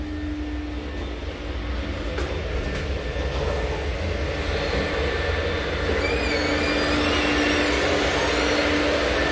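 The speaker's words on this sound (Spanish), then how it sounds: "Está aspirando el señor Blas." A vacuum cleaner runs steadily in a women's restroom during cleaning work at UCSD, a continuous close whining drone that holds at a constant level throughout, with no voices.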